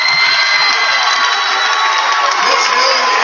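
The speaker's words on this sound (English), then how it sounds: "We'll give you a round of applause." A graduation crowd at a technical high school ceremony cheers, whoops and claps together, a loud continuous wash of voices and hands with no pause.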